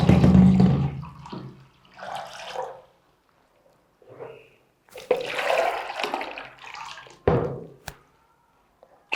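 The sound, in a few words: water poured from a 1 litre bottle into a container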